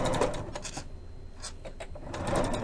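A sewing machine fitted with a concealed zipper foot stitches at a moderate pace in short bursts with brief pauses, close by on a tabletop, with no talking.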